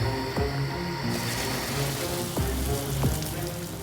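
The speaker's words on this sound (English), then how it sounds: "A professional rain machine was on hand to simulate the heavy rainfall. For over an hour, the artificial rain drenched the piece" Heavy artificial rain from a professional rain machine pours continuously, a dense hiss of drops drumming on surfaces with a few louder splashes and thumps mixed in, moderately loud and free of speech.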